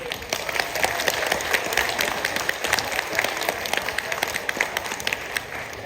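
A hall audience applauds warmly at a village gathering honoring elderly grandparents, a dense, crackling patter of many hands clapping steadily at moderate loudness, with no voices over it.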